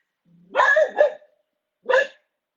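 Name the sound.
dog barking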